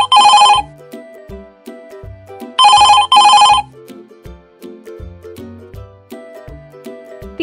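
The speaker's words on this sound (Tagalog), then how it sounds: "Kring-kring para sa tunog ng telepono." A telephone bell rings in loud, fast trilling bursts, first one and then a double ring, with soft plucked musical notes playing between the rings.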